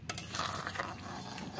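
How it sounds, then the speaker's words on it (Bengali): Lemon juice is stirred through papaya chutney, giving soft, quiet scraping and wet mixing noises close by, with a few brighter clinks of the spoon. "রসটা দিয়ে এবার সব জায়গায় মিশিয়ে নেব।"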